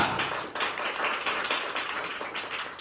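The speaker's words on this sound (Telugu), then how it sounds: "చప్పట్లు కొట్టండి గట్టిగా." A church congregation claps hard and fast together, a dense, loud, steady patter of many hands lasting a few seconds.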